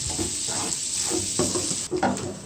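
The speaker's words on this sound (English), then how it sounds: "Garlic, and turn the fire on low. We're gonna stir this for like 2 minutes." Garlic sizzles gently in a pan over low heat for shrimp pasta, a constant close hiss with soft periodic scrapes of stirring and one brief dip near the end.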